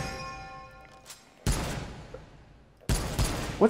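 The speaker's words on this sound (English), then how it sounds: "I don't know why I keep accidentally shooting a round off." Two sharp M1 Garand rifle shots fired in a VR video game, each a loud crack with a short decaying tail, spaced about a second and a half apart, after a faint tonal hum.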